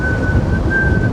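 Aircraft engines at Houston George Bush Intercontinental Airport give off a loud, steady high-pitched whine that sounds like a sustained whistle, dipping briefly once, over constant background roar.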